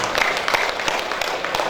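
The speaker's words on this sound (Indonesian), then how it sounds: "Tepuk tangan untuk kita semuanya." Applause from the audience at a traders' association gathering in Turen, Malang: a brief burst of scattered clapping, moderately distant and fairly thin, from a modest crowd.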